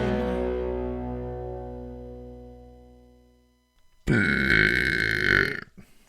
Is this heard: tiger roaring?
no